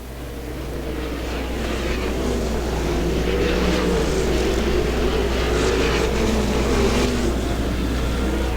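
Sprint cars racing at Butler Motor Speedway during a dealers choice qualifier, a loud sustained engine roar that swells over the first seconds and holds steady, with a continuous low rumble throughout.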